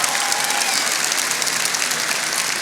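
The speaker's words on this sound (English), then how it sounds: "That is very appropriate clapping." A church conference audience claps loudly and steadily, a dense wash of many hands filling the room without pause and with no one talking over it.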